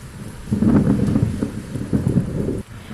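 Thunderstorm rain effect plays on its own, with a steady wash of rain and low rumbling thunder building in after a quiet start, then cutting off near the end.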